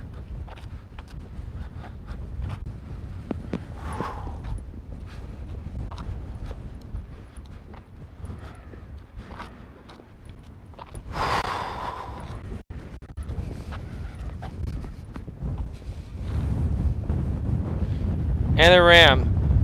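Wind blows across an open outdoor spot on a day of blue skies, a steady low rush with stronger gusts toward the end, with a person speaking intermittently beneath it.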